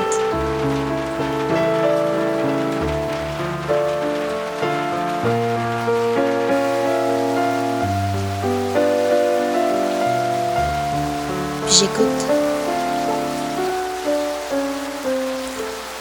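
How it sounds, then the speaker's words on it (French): Steady summer rain patters across forest foliage with a layered musical backdrop, a soft spoken phrase briefly rising over it. "J'écoute le son de la nature, la pluie qui tombe ses feuilles."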